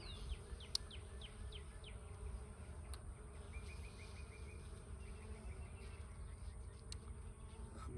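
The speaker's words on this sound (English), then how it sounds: "There's some bees coming in." Honeybees buzz at a hive entrance as they fly in, a faint, steady hum with brief passing whines of individual bees close by, outdoors with no talking.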